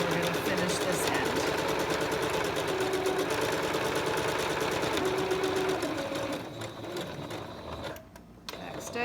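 A sewing machine runs steadily, stitching a fabric face mask made from scrap material, its fast mechanical whir continuous for several seconds before slowing and stopping near the end, with a brief pause and restart.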